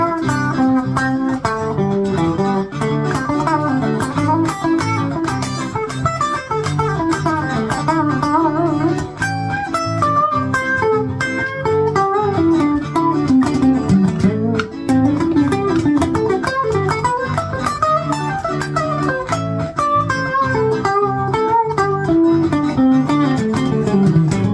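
Electric guitar plays a steady, dense groove using metric modulation, shifting for three bars before five unmodulated bars, loud and continuous with sustained chords and notes throughout.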